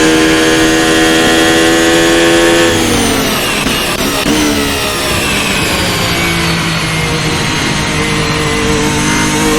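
Ferrari SF23 Formula 1 car engine in Assetto Corsa, loud and close, a high steady whine with harmonics that drops sharply near three seconds, then resettles into a rougher, gradually climbing tone.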